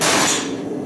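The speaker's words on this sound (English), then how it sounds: "I'm going to dump all this in here." Metal parts clatter loudly into a container in a smithing shop, one brief close crash with a metallic ring that quickly fades.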